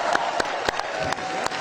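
A rowdy crowd at a political rally in Florida applauds and cheers in a dense, close wash of noise, punctuated by a few sharp louder claps at irregular intervals.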